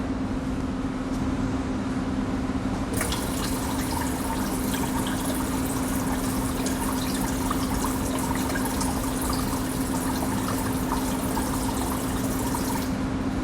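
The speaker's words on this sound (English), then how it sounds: "Let's get enough water in here." Distilled water poured into the water tank of a PAP machine, a continuous splashing trickle that gets louder and brighter after a few seconds and runs steadily for the rest of the clip, with a low hum underneath and no voices.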